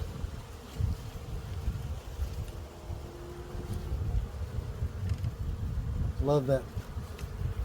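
Honey bees hum steadily at an open spring hive with brood-filled frames, a low continuous drone with faint wind, and a brief close buzz near the end as a bee passes the microphone; a voice speaks briefly.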